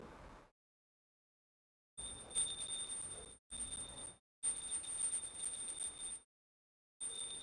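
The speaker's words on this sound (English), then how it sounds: "Please take the bell in your left hand and start ringing the bell." A small hand bell rings during a ritual offering, a steady bright metallic jingle in several bursts separated by brief silences, close and fairly quiet.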